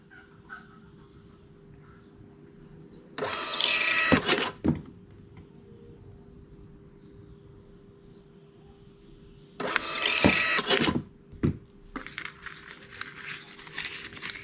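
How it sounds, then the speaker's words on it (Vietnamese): A T80Q thermal receipt printer runs off an 80mm sales receipt in two quick buzzing bursts, each ending in a sharp clack, with a quiet hum and small clicks in between. "Đây các bạn, máy in ra rất là nhanh"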